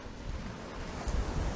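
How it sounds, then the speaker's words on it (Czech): Strong wind blows outdoors, buffeting the microphone with a steady low roar and rumbling gusts that swell louder toward the end, with no voices. "protože tady docela hodně fouká"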